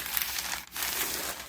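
Parchment paper laid over a quilt crinkles and rustles steadily under a pressing iron, a soft, close, continuous crackle with a brief dip midway.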